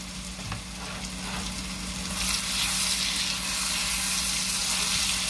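Squash sizzles and fries in a pan, a steady close hiss that grows louder and brighter partway through, with a low background hum and no talking.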